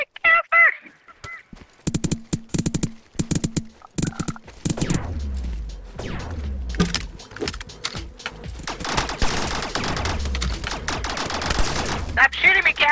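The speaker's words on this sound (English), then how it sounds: "Stop shooting me, Casper!" Rapid bursts of gunfire from a battle royale video game in a squads match, clipped and repeated through the first half, then denser and more continuous near the end, with players' excited voices talking over the shots.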